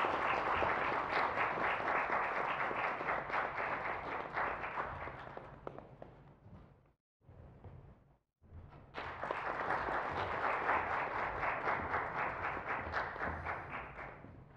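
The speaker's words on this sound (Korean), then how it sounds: "다시 한번 큰 박수 부탁드리겠습니다" A large crowd at a university entrance ceremony claps loudly and continuously, fades to a brief near-silence with scattered claps, then swells again into sustained, dense applause.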